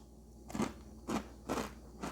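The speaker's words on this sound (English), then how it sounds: "little crunchy flour and water biscuits with pepper" Crisp flour-and-water pepper biscuits being bitten and chewed, giving four distinct crunches in a steady rhythm, close and quiet with no voices.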